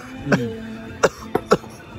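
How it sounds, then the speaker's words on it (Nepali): After a bite of spicy chili at a rooftop restaurant, a person gives a short cough and then two or three more sharp coughs, close by over quiet background murmur. "यसले चाहिँ फेरि यसरी खोकी आउँछ"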